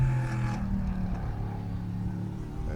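A GTX race car engine at Sebring International Raceway during a Turkey Trot Big Bore event winds down, its low droning note easing off and fading steadily without any sharp revving.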